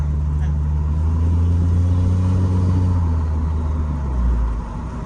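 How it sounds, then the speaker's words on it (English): A 1000HP Cummins diesel truck drives along the road, its deep steady engine rumble loud and close throughout, easing slightly near the end. "I am super ecstatic to be driving it up the road right now"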